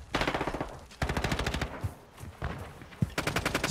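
Decoy grenade in Call of Duty: Modern Warfare II multiplayer, faking gunfire: several loud bursts of rapid automatic fire with short pauses between them, close and punchy, plus a single sharper shot near the end.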